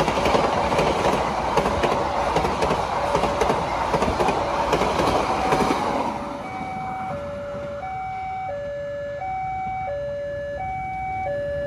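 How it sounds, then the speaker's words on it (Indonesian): The Sri Tanjung passenger train rumbles loudly straight through Mangli station without stopping, its horn sounding repeatedly in steady alternating tones as the roar of the wheels fades slightly. "itu dia kereta api Sri Tanjung dari Ketapang tujuan Lempuyangan Yogyakarta, melintas langsung stasiun Mangli sekarang"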